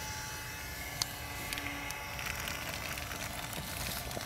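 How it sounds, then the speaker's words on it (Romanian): A window vacuum cleaner gives a steady motorized whir and suction hiss continuously, with a faint squeak and light rubbing against a Porsche Macan's glass, and no voices. "are și aspirator și colectează tot ce ia de pe geam aici"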